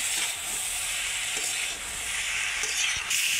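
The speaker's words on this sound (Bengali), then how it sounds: "এবার সুন্দর করে আবারও কষিয়ে নেব" Cauliflower and spices, turmeric and ground cumin, sautéing in a pan, giving a steady close sizzle and hiss with faint stirring scrapes and no talk.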